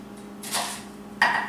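A knife chopping vegetables for pico de gallo on a cutting board, two separate cutting strokes, close and moderately quiet, with no talking.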